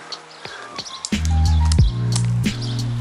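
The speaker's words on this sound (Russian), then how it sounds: "Поют птички." Small birds chirp and tweet in a residential park near an apartment block in Alanya, with short bright calls scattered over a steady low hum of nearby traffic or machinery.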